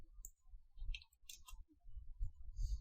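Soft, quick clicks of fingers typing on a computer keyboard, a short irregular burst of keystrokes, quiet and close with no talking.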